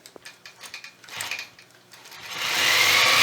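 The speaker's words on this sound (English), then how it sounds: "I'm going to stitch back to this corner this time" A sewing machine stitches curved cross-hatched quilting lines on a triangle quilt block, starting with short rhythmic bursts of mechanical clatter and then settling into a louder, continuous run.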